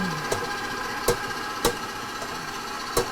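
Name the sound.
KitchenAid stand mixer running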